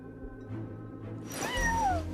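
A cat meows in the Genshin Impact video game, one drawn-out, wavering meow rising out of a low, steady game background near the end.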